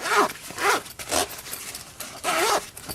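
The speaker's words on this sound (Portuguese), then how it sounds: "Posso fechar o zíper." A zipper is drawn along a sewn cosmetic bag in four quick, rasping pulls with short pauses between them, close and clear.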